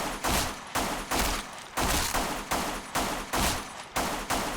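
Rapid bursts of gunfire from shooting bots in the online shooter Black Squad, repeated volleys about every half second in a steady rhythm, loud and close with no talking.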